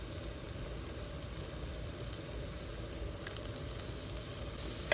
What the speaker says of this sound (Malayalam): ഇനിയിപ്പം ഞാൻ ഗ്രീൻ ചില്ലിയും കറി ലീഫ് ഇട്ട് കൊടുക്കുക